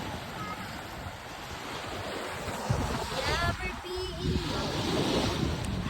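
Rough sea with waves surging and breaking continuously, mixed with heavy wind buffeting the microphone; the roar swells louder toward the end.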